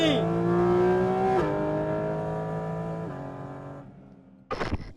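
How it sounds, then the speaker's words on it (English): A Porsche 911 GT3 RS race car engine revs loudly and winds down through falling gear tones over several seconds, followed by a brief sharp burst at the end. "a race car with a number plate on it, the GT3 RS is absolutely manic."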